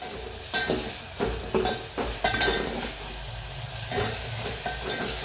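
Tomatoes with red and green chillies roasting in a pan for a village-style dal, a steady close sizzle with scraping stirs and occasional clinks of a utensil against the pan.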